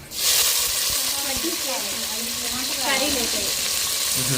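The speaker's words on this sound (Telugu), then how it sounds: "మొత్తం అయితే బాగా వేగినాయి కదా" Tomatoes, onions and chillies fry in a pan with a steady, loud sizzle and occasional stirring scrapes, while a voice speaks briefly under the frying.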